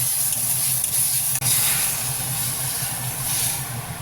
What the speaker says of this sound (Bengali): এরপর দিয়ে দিচ্ছি আদা কাঁচা লঙ্কা আর রসুন রসুনের পেস্ট